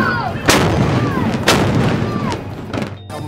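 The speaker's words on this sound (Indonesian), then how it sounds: "punggawa dan panglima untuk menembakkan meriam" Ceremonial cannons fire three booming, reverberant blasts about a second apart, each rolling into a long echo over faint background noise.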